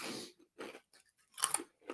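Crunchy bites of a sweet, pasta-like snack are chewed close up in several distinct bursts separated by short pauses, with no talking.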